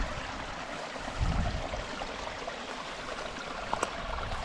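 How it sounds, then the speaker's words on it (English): Rainwater trickles through sealed earthworks in a food forest during rain, a steady close stream of running water with a soft gurgle and a few small splashes. "it's holding back water and letting some through at the same time"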